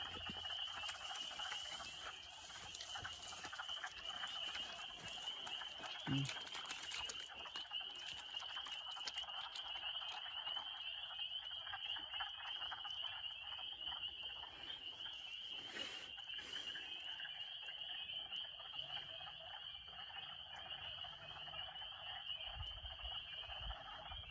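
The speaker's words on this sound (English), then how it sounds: "And those spring peepers, they're really close." Spring peeper frogs call close by along a woodland trail, producing a dense, unbroken chorus of high, shrill peeps that holds steady throughout, with a few faint low thumps and no speech.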